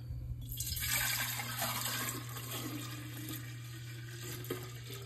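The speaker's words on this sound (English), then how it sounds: "step is to pour the milk kéfir into this large 1 gallon jar" Milk kefir made from raw milk pours into a large one-gallon glass jar, a steady gurgling splash of liquid that rushes strongest at the start and continues evenly, with a constant low hum underneath.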